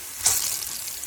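Water poured into a pan of golden-browning onions for jaggery sweet rice gives a brief hissing sizzle burst that settles into a steady bubbling frying hiss, close and without talk.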